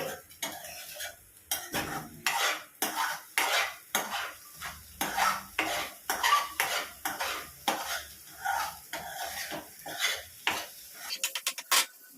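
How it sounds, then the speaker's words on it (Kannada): Eggs scrambled for egg fried rice, a utensil scraping and clattering against the pan in quick repeated strokes, with a faint sizzle underneath; close and steady, with no talking. "ಈ ಥರ ನೀವು ಎಗ್ ಬುರ್ಜಿ ಹೇಗೆ ಮಾಡ್ಕೊತೀರಾ ಅಲ್ವಾ ಅದೇ ಥರ ಎಗ್ಗನ್ನು ಸ್ಕ್ರಂಬಲ್ ಮಾಡ್ಕೊಳ್ಳೋದು"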